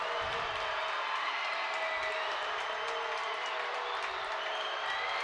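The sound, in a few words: basketball game crowd getting loud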